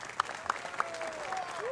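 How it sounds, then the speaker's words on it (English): Audience at a military academy commencement ceremony clapping, a steady wash of applause from a crowd, moderately loud, over a brief electronic tone. "Please give her a round of applause."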